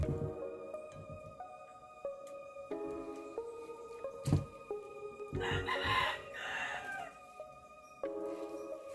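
A rooster crows near a chicken house in a long, drawn-out call over a sustained tonal hum, with other fowl clucking and a few sharp knocks, heard at moderate distance with no talking.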